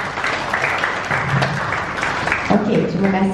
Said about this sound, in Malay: Boleh beri tepukan sikit tak untuk diri sendiri?